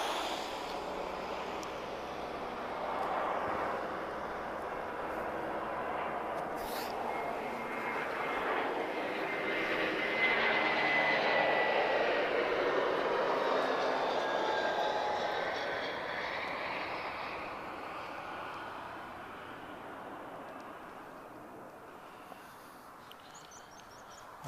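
An Airbus A321 jet airliner, a first-generation A320-family aircraft with retrofitted sharklets, arrives at Lisbon Airport; its steady engine roar swells toward the middle and fades gradually, heard alone at moderate distance.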